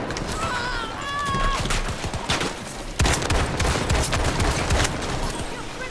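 Rapid gunfire rings out against zombies in the video game Battlefield 2042, with dense bursts of close shots, clustered most heavily in the second half, over a busy game background.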